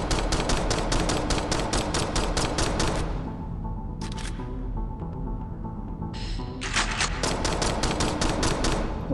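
Rapid, evenly spaced gunshots in the zombie shooter DeadHeads ring out in two long volleys, broken by a short lull with a few stray shots in the middle.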